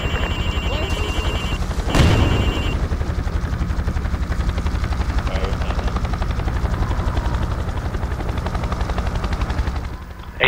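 Helicopter in the military video game Project Reality, a steady rhythmic rotor thump that runs throughout. A brief sharp burst cuts in near the start, and the sound drops away at the very end.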